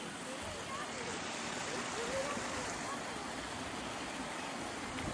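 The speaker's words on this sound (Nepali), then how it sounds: "यो सानो खोला हो" A small stream flowing at a spot where people are walking around: a steady, broad rush of moving water fills the whole short stretch, even and continuous, with no clear voices on top.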